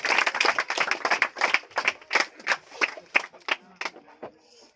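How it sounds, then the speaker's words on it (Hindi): An audience at a Teachers' Day celebration in a coaching centre claps for a teacher, a burst of brisk hand claps that thins out and fades near the end. "रोशन सर आ रहे हैं, आपको 2 शब्द रखेंगे, जोरदार ताली बजाइए"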